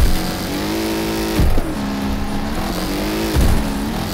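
A race car engine in the Wreckfest racing video game holds a steady revving drone with two brief bursts of acceleration, loud and close, with no talk.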